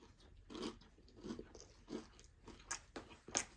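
Quiet crunchy bites and chewing on a crispy fried wonton filled with beef and cheese, a handful of close, soft crackling crunches spaced unevenly over a few seconds.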